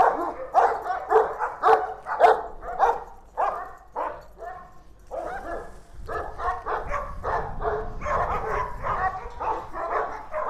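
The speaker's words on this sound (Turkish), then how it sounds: "Enerjileri yüksek ve neşeli köpekler." Several dogs barking excitedly in quick bursts, with yips and whimpers mixed in, close and lively, continuing without pause.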